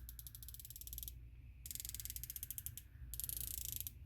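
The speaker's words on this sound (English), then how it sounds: "the clicks are spaced far enough apart that you can actually count them to figure out just how much you're going to be moving your reticle over" Adjustment turret on a SIG Romeo MSR red dot sight clicking through three bursts of rapid, evenly spaced sharp clicks, each run lasting about a second, close and clear with brief pauses between.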